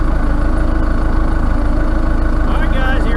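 A tractor engine idles loudly and close by with a steady low pulsing throb, holding an even rumble throughout.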